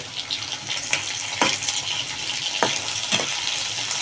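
Dried fish (shutki) and onions fry in a pan with a continuous soft sizzle, broken by a few sharp scrapes or clinks of a spoon against the pan.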